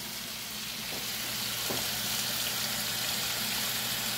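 Worcestershire sauce hits a hot stir-fry pan of steak and vegetables with a steady, loud hiss of sizzling, broken by a couple of faint soft clicks and no talking.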